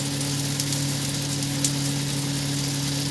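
Masala with tomato, salt and slit green chillies cooking down in a pan for chicken mocha, giving a steady, dense sizzle and crackle with constant low hiss throughout, no voices.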